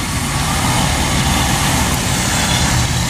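A Hino 500 FM 280 JD truck engine idles in a steady, loud, continuous low rumble heard close up with no voices over it.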